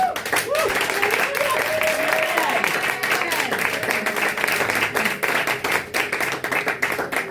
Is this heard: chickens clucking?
no